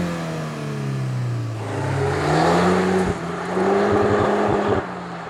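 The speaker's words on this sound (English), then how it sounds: "those quad tailpipes? Well, they sure sing a very mean song when you push the engine towards the red line" A Volkswagen Golf R engine revs hard toward the redline and rises in pitch through the quad exhausts, loud and close, with a brief dip as it shifts before climbing again.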